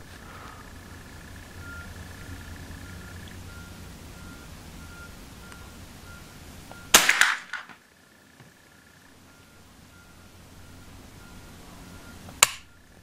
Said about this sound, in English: I'm fully loaded with the Remington 22 game loads.